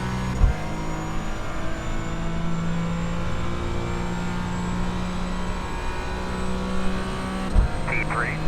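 Race car engines in the iRacing sim hum steadily at a moderate level, with sustained engine tones shifting slightly as cars circle, and brief sharp bumps near the start and end.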